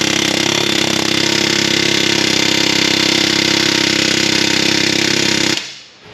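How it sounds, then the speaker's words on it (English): An air hammer, turned down, rattles loudly and continuously at close range for about five seconds while working on a Ford E4OD transmission, then cuts off abruptly into near silence. "I'll just air hammer it, but I'll turn it down"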